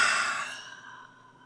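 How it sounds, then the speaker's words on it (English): A single long open-mouth exhale during yoga breathing, a soft breathy whoosh that starts fairly strong and slowly fades away, close and alone with no talking. "Open the mouth to exhale."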